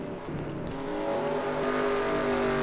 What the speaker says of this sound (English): These cars slowly making their way through this track.